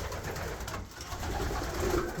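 Several pigeons in an aviary coo in a steady, overlapping murmur, close and moderately loud with no voices.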